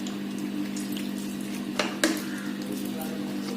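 Smashed rose apple pulp is squeezed by hand and strained through a sieve, giving a steady watery trickle of juice. A low constant hum sits underneath, with a couple of brief louder splashes near the middle.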